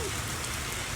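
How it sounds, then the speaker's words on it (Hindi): Steady, dense rain falls during a sudden heavy storm in a village courtyard, a continuous close hiss of drops hitting the ground and surfaces with no break. "बारिश आ रही है"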